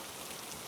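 Steady rain falling, a soft even hiss of drops with no breaks or other sounds over a very short stretch.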